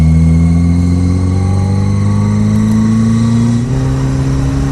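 A Yugo's engine holds a loud, steady high-rev drone during a burnout, with a slight pitch dip near the end and no talking.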